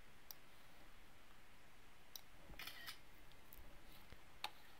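A Mac screenshot shutter click fires as Command Shift 4 captures a window: a few soft, quiet camera-like clicks over a faint steady hiss.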